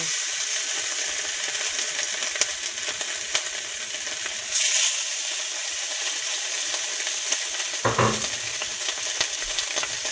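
Salmon fillet sizzling in a hot pan, a steady bright crackle of frying oil with occasional louder pops and a brief scrape near the end, close and uninterrupted by talk.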